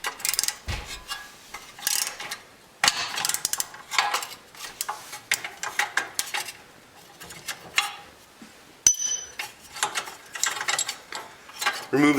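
A 3/8 drive ratchet cinches down a tie rod puller on a BMW E46 3 Series, giving repeated bursts of close, crisp pawl clicks with brief pauses and metallic clinks, ending in a sharp snap.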